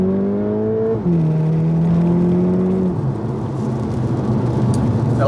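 A Volkswagen T-Roc R with just under 1,000 miles accelerates hard out of a corner. The engine note climbs steadily and drops at two gear changes, loud and continuous throughout, with no talking.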